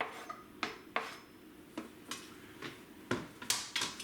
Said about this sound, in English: Now, over medium-low heat, I'm going to add the pancetta to a large skillet